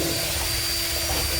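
Dremel rotary tool grinding out a sink hole during a vessel sink installation: a steady, loud high-pitched motor whine with no pauses and no voices.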